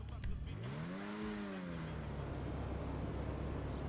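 A Ferrari SF90 XX in GTA Online revs up with a rising and falling engine whine early on, then settles into a steady, fairly quiet drone with some background noise.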